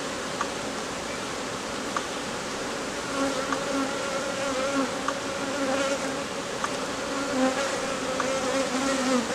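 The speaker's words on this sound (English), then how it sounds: "I can get some of the bees away here." Honey bees in a queenless beehive buzzing in a dense, steady hum, close up, with faint rustling and no voices.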